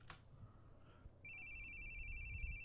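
A phone rings with a steady, continuous electronic tone that starts suddenly after a short quiet stretch and holds, faint against low background rumble.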